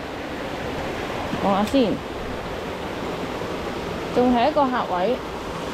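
A waterfall on a Hong Kong hiking trail sends up a steady roaring wash that fills the whole clip, while someone speaks Cantonese over it in two short bursts.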